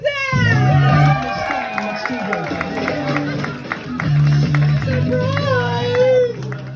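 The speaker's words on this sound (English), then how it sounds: "Please give a warm round of applause for my co-host, Karine Kazan!" Audience at a comedy club cheering, whooping and clapping loudly for a co-host, a dense crowd roar with scattered claps that surges at the start and again near the end.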